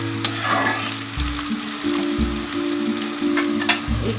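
Chopped onions fry in a pan, left to brown while cooking goat tripe, with a steady sizzle broken by a few scraping stirs and clicks, close and fairly loud with no talking.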